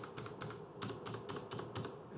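A password is typed on a computer keyboard: about ten crisp, close key clicks in an uneven rhythm, quiet and alone with no talking.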